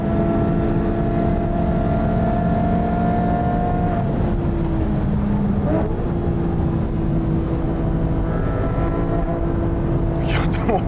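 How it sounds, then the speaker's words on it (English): A Porsche GT3 and a Ferrari F430 race side by side down a straightaway in a slipstream, engines droning loudly and steadily at high revs with shifting pitch, while a commentator talks over the noise. "utilizing the slipstream, the GT3 challenges Tsuchiya's F430 on the straightaway."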